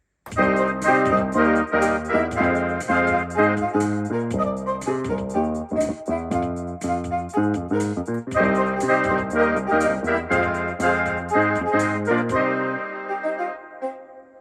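A Technics AX7 keyboard plays a bright synthesizer lead melody over a rhythmic backing of drums and bass, steady and loud, fading out abruptly near the end.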